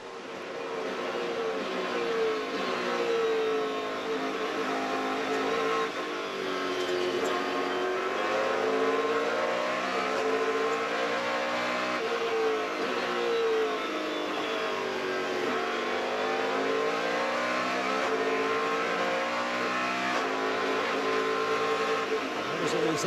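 A BMW Riley race car from Chip Ganassi Racing, running without a muffler, screams at about 8,200 RPM on a lap at the Brickyard Grand Prix. The loud, high engine note rises and falls through shifts, with a commentator's voice faintly underneath.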